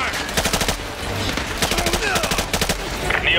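Rapid automatic gunfire in Call of Duty: Modern Warfare 2 Remastered, prison Gulag mission, loud close bursts of machine-gun fire in quick repeated volleys.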